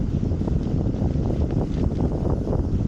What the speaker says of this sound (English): So the wind is real.